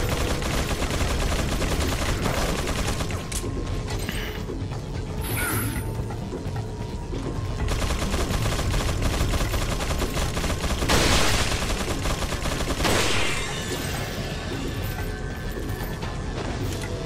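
Dense, loud gunfire from the video game Resident Evil 4, rapid overlapping shots and bursts sustained throughout alongside mechanical clatter and game effects, with no speech.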